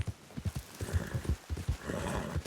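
A horse's hooves clip-clopping in a quick uneven rhythm, fairly close and moderately quiet, with a brief snort or whinny-like sound mixed in and no talking.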